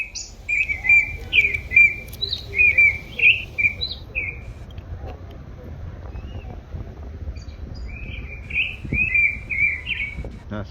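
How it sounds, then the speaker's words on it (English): An art installation speaker turns whispered secrets into synthetic bird noise, giving repeated bright chirping tweets in bursts over soft outdoor background rumble. "in return they're transformed into bird noise"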